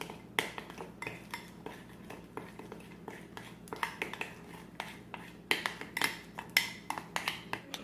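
A measuring spoon stirs a small portion in a plastic meal-prep container, giving a steady run of light, quick clinks and taps up close, with a few sharper knocks near the end.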